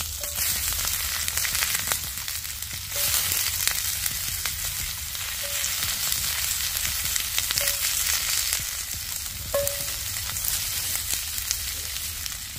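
Lard and chunks of garlic sizzle steadily in a pan over a campfire during solo winter camping, a continuous loud frying hiss with occasional pops and stirring, no talking.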